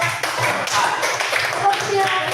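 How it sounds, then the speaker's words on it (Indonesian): A classroom gives a student group a round of clapping, with many hands patting quickly and steadily for a couple of seconds while voices mix in. "kasih tepuk tangan untuk kelompok"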